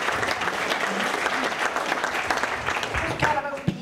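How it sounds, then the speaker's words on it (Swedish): Audience at a Swedish book launch about climate crisis solutions applauding, steady dense clapping that thins toward the end with a few louder individual claps and some voices. "Ge en applåd till Andreas ordentligt här också."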